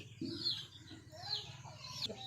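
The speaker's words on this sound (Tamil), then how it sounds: "இந்த கோழியை மட்டும் எவ்வளவு பத்து நாளும் இந்த கட்டிலேயே தான் வந்து உட்காரும்" A hen on a rural Tamil homestead gives soft, repeated clucks and a few higher calls across the span, close by and fairly quiet, with low background rumble and no talk.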